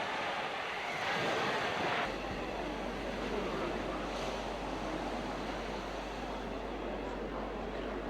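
Strong wind roars over crashing sea waves as the waters part in a film, a loud, dense, unbroken rush with a deep low rumble joining after the first couple of seconds.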